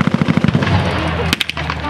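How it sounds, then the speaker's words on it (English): German trench mortars firing during a WWII battle reenactment at an outdoor show: a rapid burst of sharp cracks in quick succession, then a couple of louder isolated bangs, with commentary over the top. "You can see the German trench mortars firing now"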